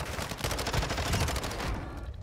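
Rapid gunfire in a video game sniper match, a loud fast stream of shots rattling for nearly two seconds before cutting off abruptly.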